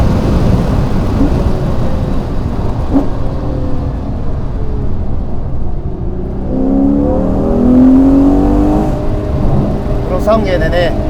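A Ferrari Purosangue accelerates at full throttle on a winding road, the engine note swelling and rising strongly partway through under steady road and wind roar, with a voice talking over it.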